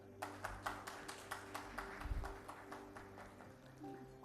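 Audience applause at a business excellence award ceremony: a faint, thin run of separate claps at a steady, rhythmic pace, sounding distant and sparse, with a low thump midway.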